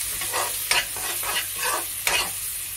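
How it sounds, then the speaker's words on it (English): A spoon stirs ginger garlic paste and turmeric powder frying in a pan for lamb curry, a close, steady sizzle with rhythmic scraping strokes. "Also add ginger garlic paste, turmeric powder, keep stirring it"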